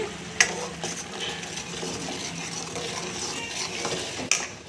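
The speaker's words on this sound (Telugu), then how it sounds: "ఆయిల్ బయటికి వచ్చేంత వరకు ఈ ఆనియన్ని బాగా వేగాలి ఇప్పుడు కొంచెం జీలకర్ర పొడిని కూడా వేసుకోండి" Onions frying in oil in a pan with cumin powder added, being stirred. A steady sizzle and scraping run throughout, with two sharp spoon knocks against the pan near the start and end.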